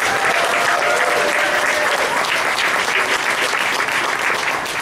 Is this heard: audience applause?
yes